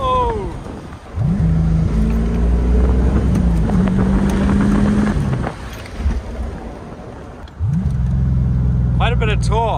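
A Lexus RC350 fitted with an axle-back exhaust accelerates hard in two loud, rising surges of engine note, separated by a brief dip between pulls, with voices talking over it inside the cabin.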